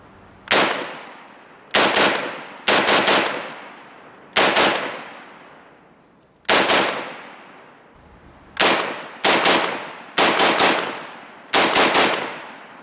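A G3K carbine fires about ten loud shots at uneven intervals, some paired close together. Each sharp report rings out and decays before the next, with no voices.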